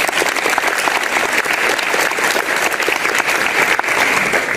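Dense, steady applause from a school audience greeting the newly elected 2022-2023 secretary, a close, continuous wash of clapping with no talk over it.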